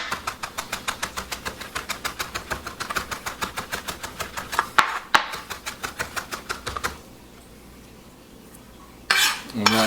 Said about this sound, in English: Put it up in gear and get that knife rocking back and forth